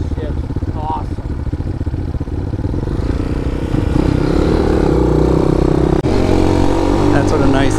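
A motorcycle with a Teflon-coated clutch cable runs and shifts gears, the engine note steady and close, then climbing as it pulls through a gear change, with a voice talking over it.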